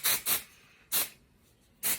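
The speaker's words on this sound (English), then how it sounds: "I like to spray up and in, not sort of like down here." Three short, sharp hissing bursts from a hairspray can, two quick ones close together, then a pause and a third, each ending before the next, with quiet room noise between.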